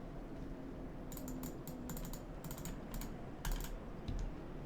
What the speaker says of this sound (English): Keyboard.